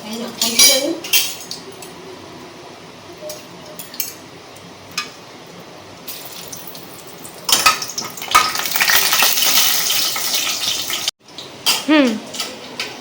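Whole cinnamon and cardamom pods drop into hot oil for tempering a spicy coconut chicken curry, with clinking utensils and a pan scrape, then a bright burst of sizzling frying that hisses steadily before a sharp cut and a few more clanks.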